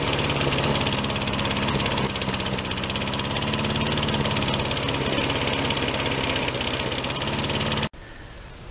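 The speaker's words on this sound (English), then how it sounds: "the John Deere is running much better now" A John Deere lawn mower engine runs at a steady, loud, close idle with a rhythmic mechanical knock throughout, then cuts off abruptly near the end, leaving only faint background.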